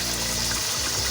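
Chicken karahi sizzles loudly in a pan, a dense continuous frying hiss that flares into a sharp burst at the very end as tomatoes go in.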